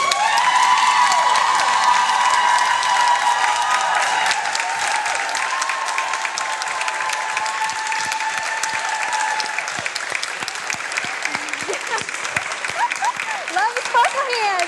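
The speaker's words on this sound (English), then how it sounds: "You're going to stand up and give an awesome standing ovation." An audience gives a standing ovation, applauding loudly and continuously, dense clapping that thins slightly toward the end with a few shouts and whistles mixed in.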